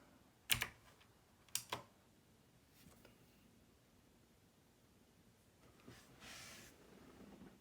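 Keys on a computer keyboard tapped in a few quick bursts at a Raspberry Pi 4 command line, close and fairly quiet, separated by pauses of faint room noise.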